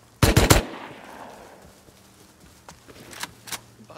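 A teammate's MP5 fires in Rust, first a loud close burst of several rapid shots, then a few sparser, fainter shots further off.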